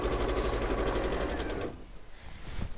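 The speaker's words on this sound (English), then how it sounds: "So I'm just literally sewing that hem in place, going all the way around close to the top folded edge." A sewing machine stitches the hem of a jersey skirt with a fast, even, close mechanical whir that stops partway through, leaving quiet handling sounds.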